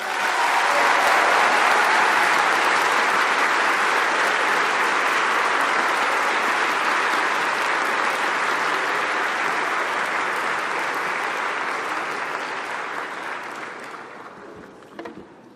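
A large college commencement crowd, the Class of 2020 at The College of Wooster, gives loud, sustained applause. The clapping forms a dense roar that gradually fades toward the end.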